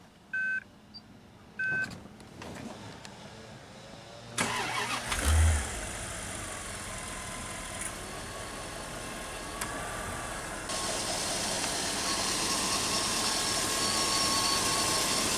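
Early 2000s Bentley starts up heard from outside, with a few electronic beeps, a brief cranking burst, then the engine settling into a quiet, steady idle that gets a bit fuller near the end.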